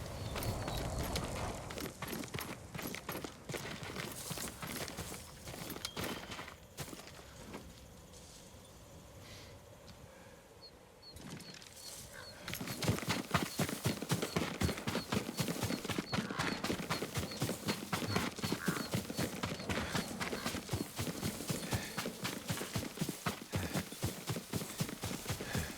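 Rapid hoofbeats of a horse in the video game Ghost of Tsushima, first at a trot, easing briefly, then a faster, louder gallop continuing at length.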